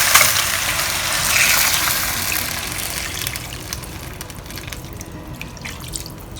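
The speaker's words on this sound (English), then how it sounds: "Now we're going to add water. We just have to put enough water to cover the chicken." Water pours into a pot of chicken for a braise, a loud gushing splash at first that eases into fainter trickling and drips as the flow slows.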